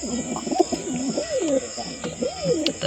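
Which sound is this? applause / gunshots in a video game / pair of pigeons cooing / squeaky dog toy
pair of pigeons cooing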